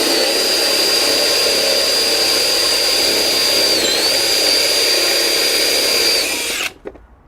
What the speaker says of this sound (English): This is the 1 3/4 inch hole dozer drilling through 2x material.